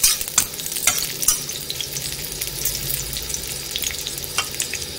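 Garlic frying in a pan for chutney while it is stirred, a steady close sizzle broken by sharp scraping clicks of the spoon throughout, with no talking.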